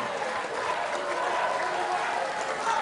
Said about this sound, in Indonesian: kita beri tepuk tangan untuk kedua calon gubernur